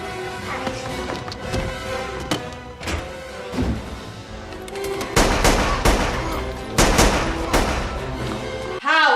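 Gunfire from the 1999 James Bond film The World Is Not Enough plays amid a dense, loud movie soundtrack of sharp shots, music and effects, with a burst of louder impacts partway through.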